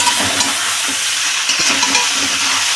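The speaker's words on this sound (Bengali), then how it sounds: "এবার ভালো করে নাড়িয়ে নেব।" Mixed pasta with chaat masala stirred in a hot pan, a constant loud sizzle with soft scraping and clinks of the spoon, close and continuous.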